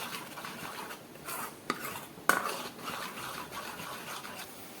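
Moong dal dhokla batter mixed with Eno is stirred in a bowl, a soft steady scraping broken by two sharp clinks of the spoon against the side.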